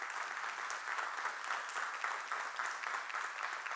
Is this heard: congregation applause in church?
yes